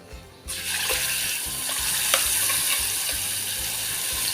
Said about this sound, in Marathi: आता ह्यामध्ये आपण जे वाटण बनवलं होतं ते घालूया